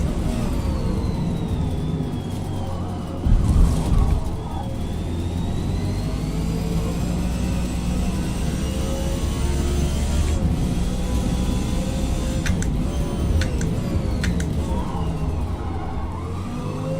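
A race car engine revs hard in Forza Motorsport, climbing and dropping through gear changes with whining pitch sweeps, sustained and loud with no voices.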